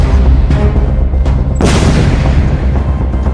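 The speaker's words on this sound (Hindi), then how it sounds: "पांचवा धमाका" A series of heavy booms over a deep rumble, the strongest blast landing midway and trailing into a long roaring decay.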